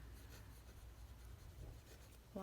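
Lamy Safari fountain pen nib writing on paper, a faint steady scratchy rubbing of strokes, close and quiet with no talk.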